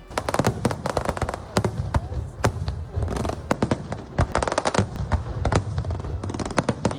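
Fireworks in Altea, Spain: a dense run of sharp, loud bangs and crackles in quick irregular succession, some near and some echoing, continuing steadily throughout.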